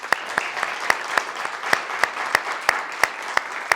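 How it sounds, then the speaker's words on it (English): An audience at a personalisation conference claps together, a dense run of hand claps with a steady rhythm close by, with no voices over it. "So give them some applause"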